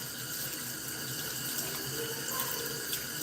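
Warm tap water runs steadily into a sink while a makeup sponge is washed with Dawn dish soap, a continuous hiss and splash close by with no talk.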